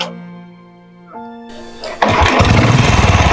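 A motorcycle engine cranks, then catches and settles into a loud, steady, close idle after about two seconds, following a stretch of sustained tonal background sound.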